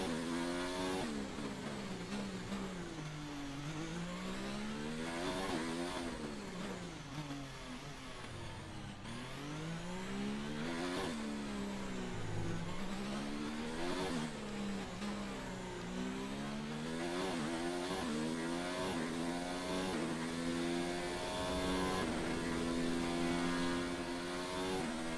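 Formula 1 cars racing around Monaco in the F1 2019 racing game, with high-pitched engine whine rising and falling through gear changes and corners, continuous and loud with no talk.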